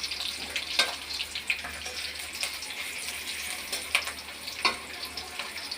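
Chopped onions frying in a pan as the first step of a home Bengali dish of shapla (water lily stems), giving a steady moderate sizzle with scattered louder crackles and pops, no talking.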